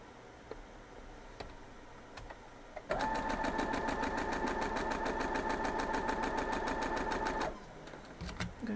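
A sewing machine stitches white quilt block pieces together, running in one fast steady burst of rapid mechanical ticking for several seconds before stopping, heard close and alone.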